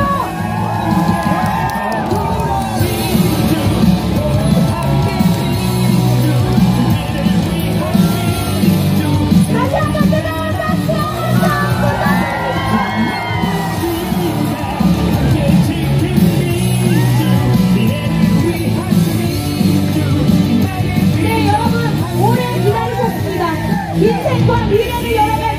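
A large outdoor political rally crowd cheers, yells and whoops continuously to welcome a presidential candidate, a loud dense roar with shouted chants rising throughout.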